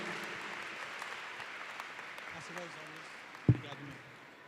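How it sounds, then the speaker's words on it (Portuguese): A church conference congregation applauds in a soft, diffuse, fairly distant patter that holds steady for a few seconds. A voice is heard and a single sharp knock stands out near the end. "Vamos aplaudir ao Senhor."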